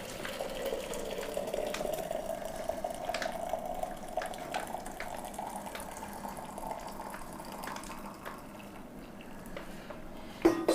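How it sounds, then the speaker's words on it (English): Hot water pours from a flask into a cup for coffee, a soft steady trickling fill lasting several seconds with faint drips, close and quiet, ending in a small clink. "I pour in my hot water."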